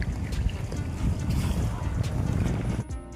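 Boat moving on the sea at Dublagadi beach, a steady rumble of engine and water with wind buffeting the microphone, close and continuous.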